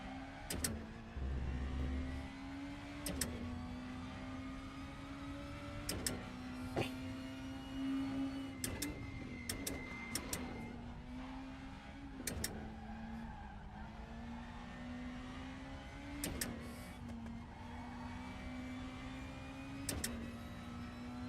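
Race car in RaceRoom at full throttle out of the pit, a steady droning engine note holding pitch with brief sharp clicks of gear changes, moderately loud and continuous.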